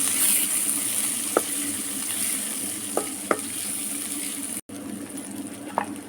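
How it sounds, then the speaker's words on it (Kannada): Onion, tomato and green chillies fry in a pan of tempering, a steady bright sizzle with a few sharp stirring clicks and scrapes, close and moderately loud, no voices. "ಇದಕ್ಕೆ ನಾನು ಒಂದು ಸಣ್ಣ ಈರುಳ್ಳಿ ಒಂದು ಸಣ್ಣ ಟೊಮೆಟೊ ಆಮೇಲೆ ಎರಡು ಹಸಿಮೆಣಸು ಈಗ ಇದನ್ನು ಫ್ರೈ ಮಾಡ್ಕೊಂತೆ"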